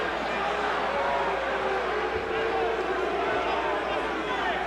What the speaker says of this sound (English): Crowd beginning to get restless.